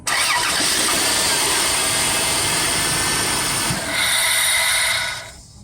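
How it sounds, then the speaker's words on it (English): A Dodge Caravan minivan engine idles with a continuous whirring, whining chatter from a failing one-way clutch pulley, then a short higher whine near the end before it fades. "One-way clutch pulley starting to make noise on this Dodge Caravan"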